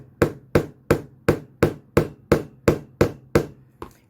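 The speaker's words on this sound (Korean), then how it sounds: "천천히 여러 차례에 망치를 가격해서 못을 박는다 라고 생각하면 될 것 같습니다" A hammer drives nails into a wooden board for string art, in about eleven sharp, evenly spaced strikes roughly every third of a second, close and alone.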